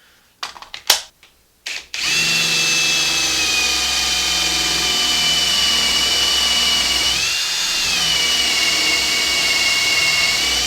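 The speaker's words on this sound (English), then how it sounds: "it's nice to have a battery operated vacuum" A battery-powered vacuum cleaner at a workbench starts after a few short bursts and runs steadily with a loud, high-pitched motor whine, alone and close.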